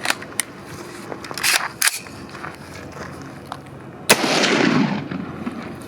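A PSA KS-47 pistol fires Red Army ammo outdoors, giving a single loud, sharp gunshot with a brief decaying tail after several softer clicks and handling noises.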